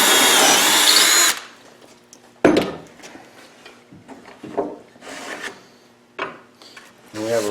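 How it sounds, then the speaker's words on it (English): A handheld drill bores a hole for a 3/8-inch dowel into the edge of a pine board, starting with a loud burst of whirring cutting, then softer scraping and rasping as the bit is worked. "I just use a regular handheld drill."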